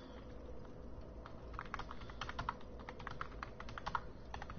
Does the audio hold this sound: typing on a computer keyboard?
yes